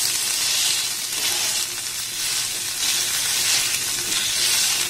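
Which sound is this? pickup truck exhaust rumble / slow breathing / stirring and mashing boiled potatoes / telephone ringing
stirring and mashing boiled potatoes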